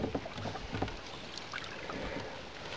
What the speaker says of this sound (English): It's just a nice leisurely paddle.